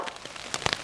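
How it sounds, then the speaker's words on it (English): Pea-sized hail falling outdoors at a wilderness lake campsite: a dense, soft patter of small ice pellets striking surfaces, with a few sharper ticks standing out, moderately quiet and continuous. "We got pea-sized hail right now, so we're taking a little intermission."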